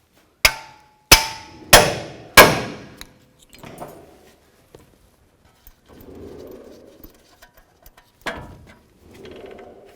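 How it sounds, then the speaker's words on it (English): Four sharp metallic hammer blows ring out on a pickle fork driven into a front upper ball joint on a 2007-2014 Cadillac Escalade, followed by softer clinks and scraping. "And then I'm going to use my hammer and I'm going to separate the ball joint from the knuckle."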